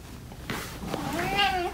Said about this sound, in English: my cat wants to leave